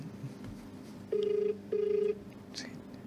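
A telephone rings twice in short even bursts during a call, each ring a clear electronic tone, near and loud against a quiet room hum.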